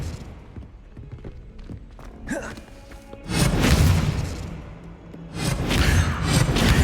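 An Expelliarmus spell is cast in the Hogwarts Legacy video game, a whooshing burst that rises into a loud crashing impact, followed by a second surge of rumbling magical noise, with a voice heard faintly beforehand.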